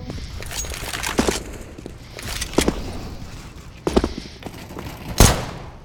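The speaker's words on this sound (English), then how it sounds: "And Contact gets a headshot with a 5-7." Five-SeveN pistol fire in CS:GO rings out as several sharp, separate shots spaced a second or so apart, each a crisp crack with a short tail, over quiet in-game background noise.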